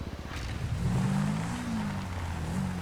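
An off-road motorbike engine in the video game GTA V revs steadily, its pitch rising and falling in a continuous loud drone for about three seconds, with no talking.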